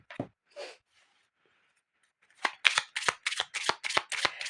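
Playing cards being shuffled up close, starting with a couple of soft rustles and then a steady run of rapid riffling flutters, clear and alone without talk.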